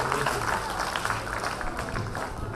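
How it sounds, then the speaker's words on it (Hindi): An audience clapping in a lecture hall, a dense patter of applause held at moderate distance for a couple of seconds, with a faint voice underneath. "ताली बजाइए"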